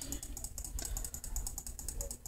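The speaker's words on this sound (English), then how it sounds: "You might be hearing me click my mouse like 20 times." Rapid clicking of a computer mouse during a Pokemon Brick Bronze game session, a steady stream of quick, close, light clicks with no talking.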